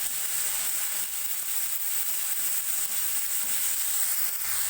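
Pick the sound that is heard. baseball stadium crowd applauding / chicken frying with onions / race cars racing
chicken frying with onions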